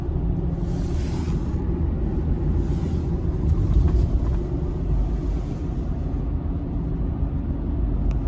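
Ford Super Duty pickup with the 7.3-liter gas V8 driving along, heard from the cab as a steady low rumble of engine and road noise, with a brief swell midway.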